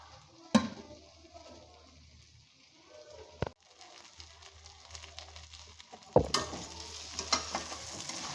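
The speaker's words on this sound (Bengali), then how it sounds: "আলুটাকে একটু মশলার সাথে ভালো করে একটু কষিয়ে নেবো" Potatoes sizzling with spices in a hot wok with occasional sharp scrapes and clanks of stirring, a low steady fry underneath.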